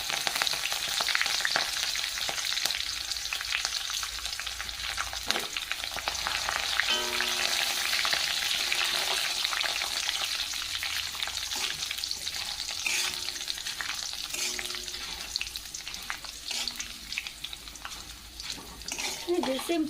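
Torn leaves fry in very hot oil, a continuous crackling sizzle with frequent popping spits, close and steady for the whole stretch, with faint background voices and occasional utensil clinks.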